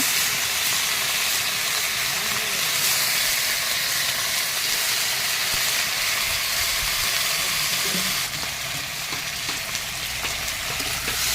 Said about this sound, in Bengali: আলুটাকে আমি এখন একটু ভেজে নেব